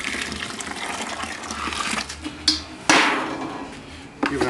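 Hot water poured into a beer mash during home brewing to raise its temperature to 168 degrees, heard as a brief close gushing splash followed by sputtering and splashing in the vessel.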